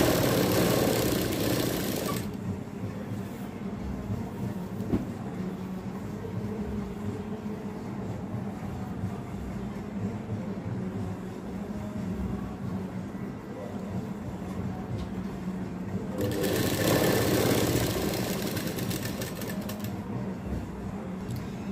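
A sewing machine runs steadily while stitching all the way around the hem of a baby frock, a close continuous mechanical whir that surges louder at the start and again near the end, with no voices.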